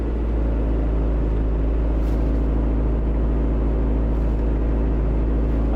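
The diesel engine of a newly bought used vehicle with 186,000 miles idles steadily, a loud, constant low rumble close by with no variation in speed and no voices.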